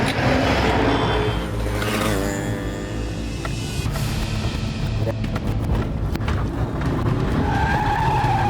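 A car skids hard during a high-speed police chase after a bank robbery, with a long loud tire squeal and roaring engine filling the scene, fading into rattling noise and a faint tone near the end.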